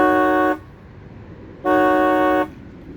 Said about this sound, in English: for those that don't know what a Cadillac horn sounds like